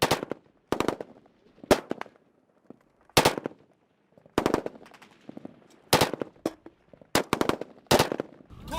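Soldiers fire in short bursts of machine-gun and rifle shots, sharp and loud, in irregular clusters with brief gaps between volleys, from close by during a firefight in a walled urban area.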